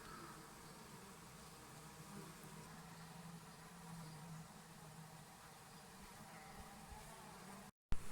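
A steady, low insect buzzing hums throughout, like many honey bees droning close by at a hive entrance, with a brief dropout near the end.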